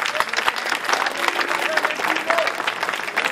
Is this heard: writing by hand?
no